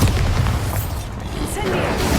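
A deep, rumbling blast from the Bombarda spell in Hogwarts Legacy, a heavy boom that fills the whole moment with a dense, roaring low end, while a voice speaks over it.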